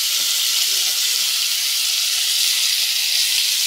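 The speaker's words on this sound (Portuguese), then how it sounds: "Aqui, vou fritar o bacon" Bacon frying in a pan for a homemade hamburger gives a loud, steady hiss and crackle that stays even throughout with no pauses.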